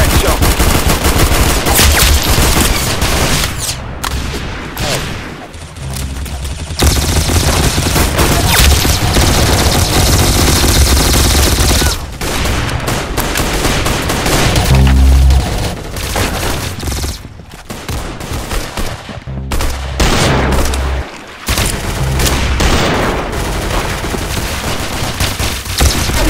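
Loud, rapid gunfire from the Roblox game Arsenal crackles almost nonstop in dense overlapping volleys with only a few brief gaps.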